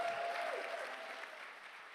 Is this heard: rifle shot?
no